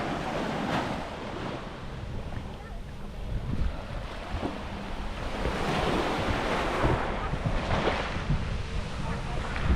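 Ocean surf rolls and crashes nearby on a beach in the Dominican Republic, with steady wind buffeting the microphone; the rumble of waves swells and fades continuously.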